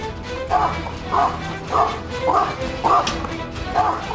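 A dog barks repeatedly in a steady rhythm, about six evenly spaced barks at moderate distance, with faint background sound throughout.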